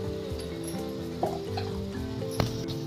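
Prawn curry with curry leaves sizzles and bubbles steadily in a pan, a low continuous fry with a couple of soft clinks from stirring.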